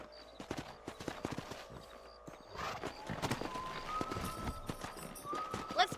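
Horse hooves clip-clopping at a gallop in the Western video game Red Dead Redemption, a busy rhythmic patter of hoofbeats with occasional whinnies and game ambience, moderately quiet and steady.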